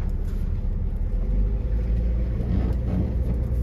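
A BMW X5 diesel off-roading: a steady, loud, close engine rumble with a low drone that holds throughout, with light tire and body noise over it and no talking.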